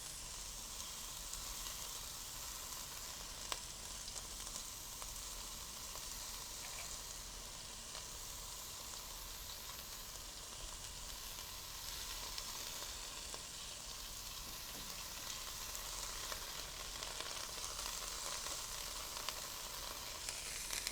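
Pork and pineapple kebabs sizzle steadily on a grill, a continuous close, even frying hiss with faint crackles that holds without talk throughout.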